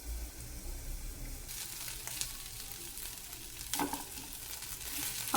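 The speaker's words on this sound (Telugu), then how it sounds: "ఆనియన్స్ బాగా ఫ్రై అవ్వాలి" Onions frying in oil in a pan for a gasagasalu (poppy seed) curry, a steady low sizzle running throughout with a few brief stirring scrapes and clatters near the end.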